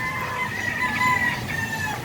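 A grey Gilmore rooster crows and clucks at close range in a farm breeding setting, with a harsh, drawn-out call holding steady throughout and no speech.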